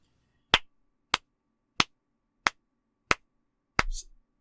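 Six sharp single hand claps, used to sync a recording, land about half a second apart in a quiet room, each crisp and isolated, with a brief thud and murmur after the last.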